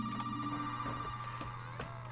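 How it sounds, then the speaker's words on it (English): A telephone ringing in Resident Evil 7, a faint repeating electronic ring over a steady low hum and game ambience, with no voices. "You can ignore this phone call as well."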